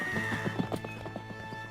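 A horse whinnies in a loud, shrill, wavering neigh close by, with hoof clip-clops and a faint steady background hum beneath it.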